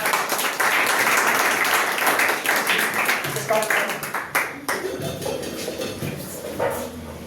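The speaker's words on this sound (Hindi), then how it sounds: "तो सबसे पहले हमारे चीफ गेस्ट सरोज सर के लिए एक जोरदार तालियों से स्वागत करें उनका" Audience applause at a school result ceremony welcoming the chief guest: a loud, dense burst of clapping from a large crowd that thins toward the end, with talk mixed in.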